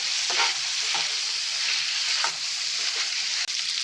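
Chicken tikka frying on a tawa gives a loud, continuous close-up sizzle broken by brief stirring scrapes.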